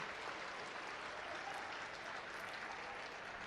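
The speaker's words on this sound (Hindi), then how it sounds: "स्वागत के क्रम में तालियां बजती रहनी चाहिए।" A crowd claps continuously to welcome guests at a public ceremony in Gorakhpur, an even, full wash of applause with no pauses and no voices on top.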